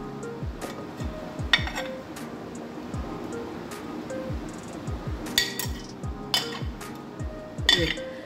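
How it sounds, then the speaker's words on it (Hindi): Small phalsa berries are dropped into a container while making phalsa sharbat, giving a scatter of light clinks and taps at an uneven rhythm over a soft background wash, close to the listener. "ये देखिए ये फालसे मैं डाल रही हूँ इसमें"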